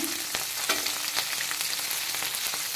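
Garlic, ginger and green chillies frying in a pan for vegetable pulao, giving a steady close hiss with a few brief clicks of ingredients dropping in or being stirred, no voices.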